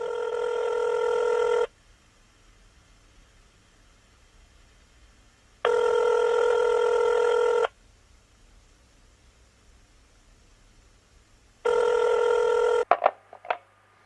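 A telephone ringback tone sounds in three long, steady bursts separated by silent gaps of several seconds, loud and clear, followed by a brief clatter as the call is picked up.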